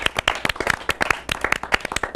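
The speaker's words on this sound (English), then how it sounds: "Big round of applause to you as well." Studio audience applause on a televised Indian debate show about virtual versus traditional schools, dense rapid clapping from many hands, close and steady throughout with no talk over it.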